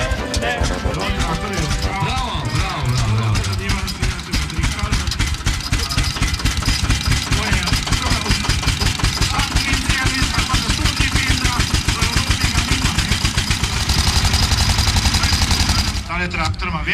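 An old tractor engine at a vintage tractor gathering in Komenda, Slovenia, chugs with a rapid, steady, loud knocking beat that runs throughout.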